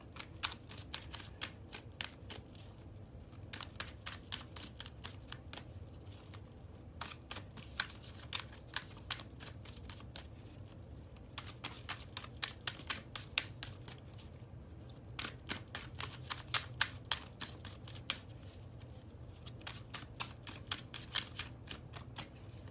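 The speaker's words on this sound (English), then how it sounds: "let's go on and shuffle these cards." Tarot cards being shuffled over and over, rapid riffling bursts with brief pauses between rounds, close and fairly soft, with no talking.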